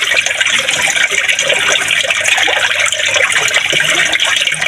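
Water is scooped with a can and poured into a gallon container. It makes a continuous loud, close gushing and splashing that stays steady throughout, with no talk.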